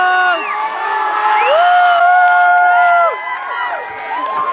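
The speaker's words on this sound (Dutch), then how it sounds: "We gaan allemaal natuurlijk keihard juichen als Helmoet straks over de finishlijn komt" A small crowd cheers loudly as Helmoet crosses a finish line. Several voices shout and whoop in long, rising and falling cries that overlap for a few seconds, close and energetic.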